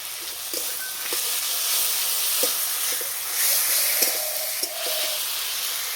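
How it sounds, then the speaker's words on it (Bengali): Ginger garlic paste dropped into hot oil for tilapia curry, a bright hissing sizzle that swells and fades with scattered spatula taps and scrapes, close up with no talking. "আদা রসুন একসঙ্গে বাটা আছে, বাটাটা দিয়ে দেবো।"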